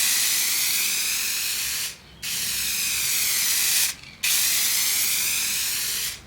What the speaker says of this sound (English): I then use a Rust-Oleum semi-gloss sealer to protect this piece for its life ahead.